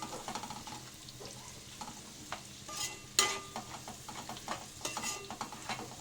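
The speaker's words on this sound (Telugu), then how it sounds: "కొంచెం ఫ్రై అవ్వనిద్దాం." Egg fried rice sizzles and fries in a pan with a steady crackle, broken by intermittent scraping and stirring clatter and a few sharp metallic clinks, all close and with no talking.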